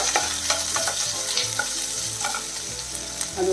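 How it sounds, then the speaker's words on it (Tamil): Shallots and three green chillies sauté in hot oil in a pan for a bitter gourd dish, a steady close sizzle with stirring scrapes throughout and no voices. "சின்ன வெங்காயம் நல்லா வதங்கணும் அது கூட வந்து ஒரு மூணு பச்சை மிளகாய் அதையும் சேர்த்துருக்குறேன்"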